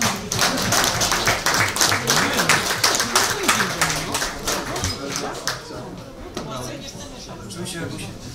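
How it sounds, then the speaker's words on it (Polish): Applause from a crowd at a promotional evening, rhythmic close clapping with sharp distinct slaps that softens toward the end, with voices talking underneath. "Wielkie brawa Sebastian Rida"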